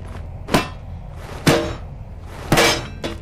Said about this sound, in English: my hammer will do the trick on that lock then